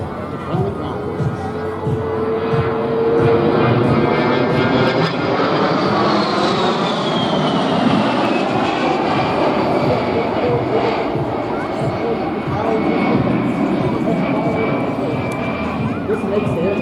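An A-10 Warthog jet roars steadily overhead at an airshow in Rome, Georgia, its engine whine sweeping in pitch as it passes, with someone narrating over the continuous noise.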